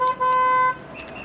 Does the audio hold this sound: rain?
no